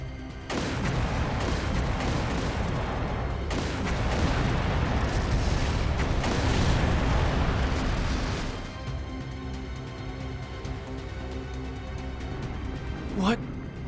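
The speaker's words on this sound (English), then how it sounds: "Confirming source of gunfire." Gunfire and explosions crackle from a street battle in the city in Trails through Daybreak II, booming densely for about eight seconds before settling into a lower rumble of continued fire, with a rising whistle near the end.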